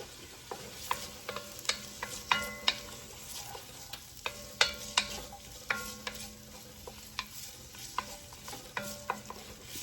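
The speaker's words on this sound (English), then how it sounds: "We're going to get that hot and saute some onions." Onions sauté in a couple tablespoons of hot oil in a Dutch oven, a soft continuous sizzle punctuated by frequent, close clinks and scrapes of a utensil stirring against the pot.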